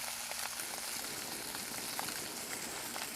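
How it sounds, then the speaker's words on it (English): A sous vide New York strip loin searing in a hot oiled pan, an even, faint, rain-like sizzle with small scattered pops that holds steady from start to finish. "Let it sear just a little bit on that side."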